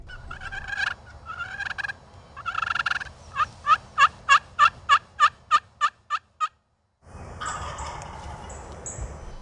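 A wild turkey gobbler answers a hunter's turkey call outdoors. A few rough calls come first, then a clear, rapid rattling gobble of about a dozen pulses, followed by a brief silence and then outdoor ambience.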